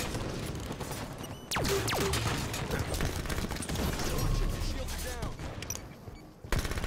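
Gunfire in the Halo 5 video game, with bursts of rapid automatic shots and single cracks, plus a few booming hits, scattered across the clip at moderate loudness.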